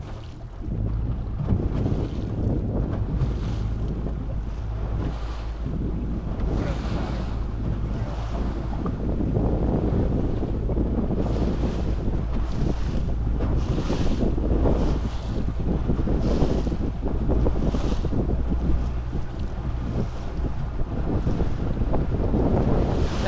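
A boat's outboard motor on the ocean runs under steady throttle, a continuous low engine drone mixed with wind buffeting the microphone and water noise, with no voices.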